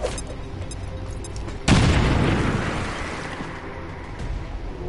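A grenade goes off in the XCOM 2 video game, one loud close boom that lingers and slowly fades into a rumbling tail, after a brief quieter stretch.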